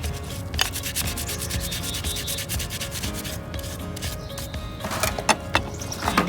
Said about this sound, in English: So give that a good scrub.